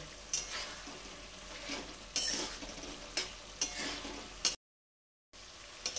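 Bay leaves dropped into about two spoons of hot oil for a green pea ghugni, giving a low crackling sizzle with a few sharp stirring scrapes, cut by a brief silent gap.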